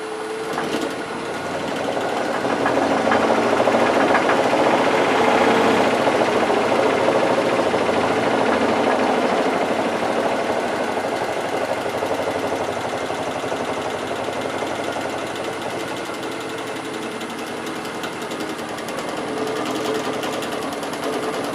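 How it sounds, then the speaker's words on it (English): A walnut bowl spins on a wood lathe, giving a steady, loud whirring drone with a rough rattling harmonic vibration that holds for the whole stretch with no voices. "Sometimes you can speed your lathe up and work through that harmonic"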